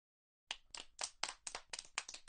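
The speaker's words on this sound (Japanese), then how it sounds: "皆さん、盛大な拍手でお迎えください。" After a brief silence, a short burst of applause in the video game Steins;Gate Elite, a few sharp, rhythmic hand claps close by.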